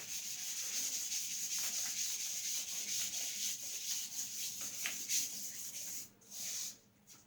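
Writing is rubbed off a board in a steady, close scrubbing stream that lasts most of the time, with brief pauses near the end and no talking over it.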